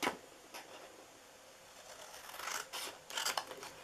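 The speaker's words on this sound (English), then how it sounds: "So we're cutting off this square right here." Scissors snip through paper while a Christmas mailbox treat box is cut out, a few crisp close cuts in a quiet room, with sharper bursts of snipping toward the end.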